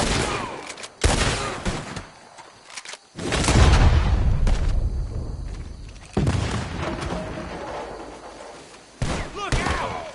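Gunfire in Red Dead Redemption 2: a burst of sharp shots and booming blasts rings out in a loud, ragged firefight, with breaks between volleys and voices shouting in between.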